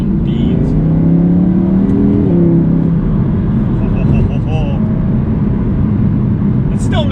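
A supercar engine pulls hard and loud under steady acceleration, with a rising whine and a continuous roar throughout, while a voice talks over it.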